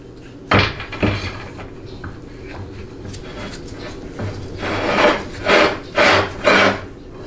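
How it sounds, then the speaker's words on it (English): A slip yoke slides into a freshly greased 4L60E-type transmission extension housing with a new bushing and seal, giving a few scraping, rasping metal pushes and knocks, close up, with no talk. "And then test again with your slip yoke."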